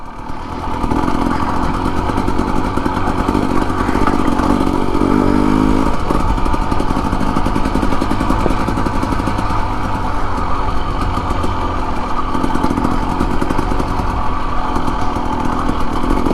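Husqvarna TE250 and Kawasaki trail bikes, including an air-cooled Kawasaki, ride a rough desert canyon trail, their engines buzzing loud and close without a break, with revs rising and falling.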